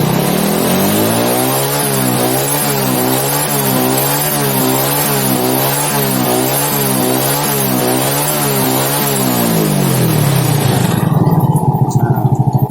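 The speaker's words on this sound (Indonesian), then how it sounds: "Coba kita gas." Honda Supra X motorcycle engine revved under throttle during an electrical check, a loud steady rising-and-falling drone with pulsing harmonics that then drops to a rough idle near the end.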